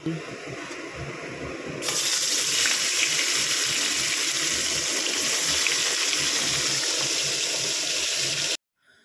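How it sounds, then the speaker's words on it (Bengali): Fish being washed under an outdoor water tap: after a brief quieter start, a steady loud gush of running water pours and splashes continuously for several seconds, then stops abruptly near the end. "আর এই যে বাইরের কলে মাছ ধুচ্ছি।"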